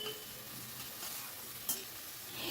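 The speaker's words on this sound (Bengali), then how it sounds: "1খানা টমেটো কেটে ধুয়ে রেখেছিলাম, সেটা দিয়ে দিলাম। দিয়ে আবারও একটুখানি কষিয়ে নিচ্ছি।" Spices and chopped tomato stir-fry in a pan on the stove, giving a faint, steady sizzle with soft scraping and one brief louder clink, and no voices.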